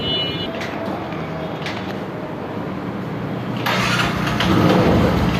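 A Bajaj Discover 110 motorcycle engine idles steadily and close by, a low even rumble with a few clicks, swelling louder toward the end.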